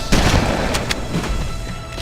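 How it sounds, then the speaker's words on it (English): Shotgun blasts ring out in the video game Halo: Combat Evolved, several loud, booming shots in quick succession over a short stretch of gunfire. "I'm actually gonna need to use my shotgun to take these guys out"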